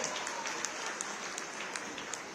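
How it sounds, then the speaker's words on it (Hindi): An audience at an awards ceremony in Gorakhpur claps in welcome for an honoured guest: a steady, dense wash of applause from many hands, fairly distant, with a few sharper individual claps standing out. "तालियां बजाकर हम सब स्वागत करते हैं पूज्य महाराज जी का"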